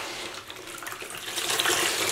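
Tap water running steadily into a sink to rinse yarn dyed with red food colouring, a close, continuous splashing flow that grows slightly louder toward the end.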